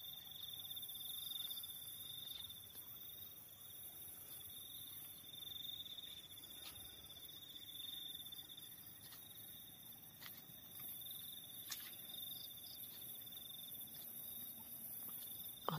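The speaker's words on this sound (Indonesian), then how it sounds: "Suara jangkrik." Crickets chirp steadily at night near a cherry tree in Poncol, Bekasi, with several overlapping high, continuous trills, fairly faint and distant, with an occasional click and no talking.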